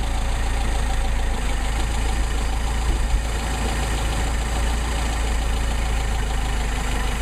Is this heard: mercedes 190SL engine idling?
yes